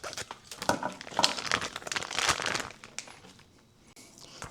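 Plastic packaging around about 2.2 pounds of cold, partly frozen beef trimmings being cut and pulled open, giving close crinkling and tearing rustles in uneven bursts that fade toward the end.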